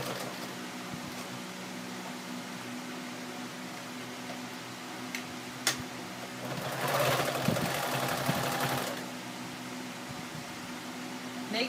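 Sewing machine stitching a denim seam of old jeans through three layers, guided by the presser foot edge, with a steady low hum and a louder burst of fast stitching in the middle.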